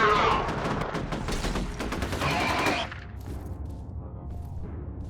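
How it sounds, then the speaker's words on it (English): Dense gunfire rattles through a firefight in the video game F.E.A.R. on Extreme difficulty, with rapid overlapping shots that cut off abruptly, leaving a low rumbling background. "Taking fire!"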